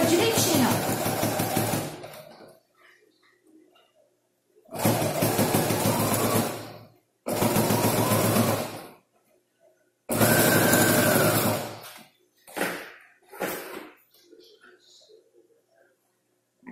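A sewing machine runs in several loud bursts, four longer runs and two brief ones, sewing bias binding around a curve on a multifunction wallet, with quiet gaps between them.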